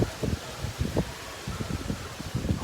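Strong storm wind in Chennai blows through trees, producing continuous rustling of leaves and palm fronds with irregular gusty swells, fairly faint and without talk.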